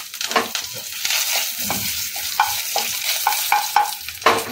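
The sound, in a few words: curry leaves crackling and sizzling in hot oil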